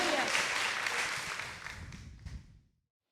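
A church congregation claps in praise during an anniversary worship service, a burst of scattered applause that fades out within a few seconds, with some voices mixed in.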